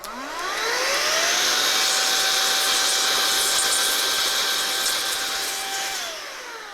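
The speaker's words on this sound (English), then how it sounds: "instead of a can of air, air duster, computer dust or whatever, I got one of these things, and it's loud" Loud electric air duster blowing out threads in a gun part, a high whine that spins up, holds a steady rushing tone for about five seconds, then winds down, close and alone.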